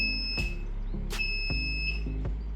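An E1 alarm on a controller alarm panel gives a steady high-pitched electronic tone that cuts in and out, with sharp clicks at irregular intervals over a low background hum.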